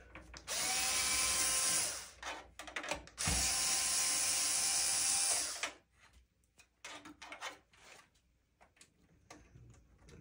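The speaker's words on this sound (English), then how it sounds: "then we will unscrew the two screws here in the back holding it in" Two loud, sustained whirring bursts from a power screwdriver back out the screws holding a card in a gaming PC, followed by quieter clicks and handling noises.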